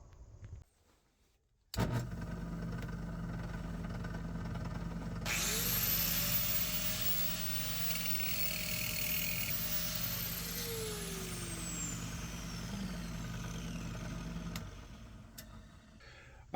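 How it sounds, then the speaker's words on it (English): A power grinder works on a metal car hood ornament, its steady whining drone running almost without a break at close range and winding down near the end. "Let's grind it some more."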